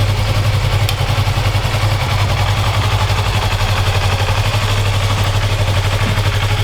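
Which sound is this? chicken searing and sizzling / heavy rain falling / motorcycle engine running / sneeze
motorcycle engine running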